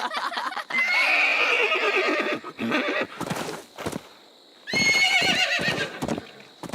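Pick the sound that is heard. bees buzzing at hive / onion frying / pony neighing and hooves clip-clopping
pony neighing and hooves clip-clopping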